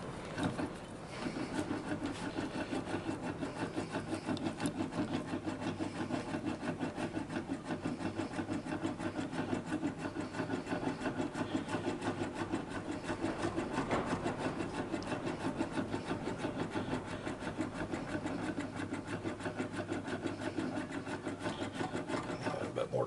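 An English wheel rolls and shrinks sheet metal to form an aircraft elevator horn for a Pietenpol in a workshop, giving a steady rasping, rubbing drone that runs continuously and fairly loud throughout, with some speech mixed in.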